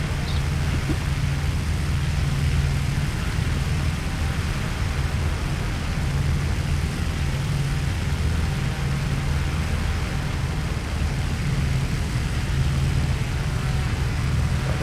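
Propeller aircraft taking off in Desert Wings Tobruk, a steady loud engine drone with a pulsing low hum and broad wind rush holding constant throughout, no talk over it.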